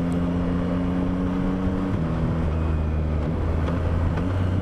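Yamaha Y-AMT automatic motorcycle revving close up, steady engine drone that drops in pitch in distinct steps as it downshifts.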